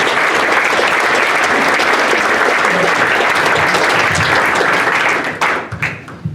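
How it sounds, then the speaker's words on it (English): Sustained, dense audience applause fills the room at a football club's owners' meeting, loud and steady before thinning into scattered claps near the end. "Give a bit round of applause."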